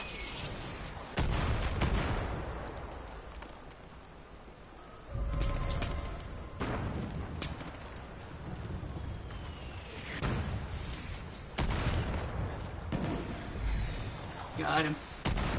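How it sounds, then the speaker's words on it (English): Mortar rounds bursting in Far Cry 5 gameplay: several heavy, close booms at irregular intervals over a constant rumbling game soundscape. "Stop firing mortars at me!"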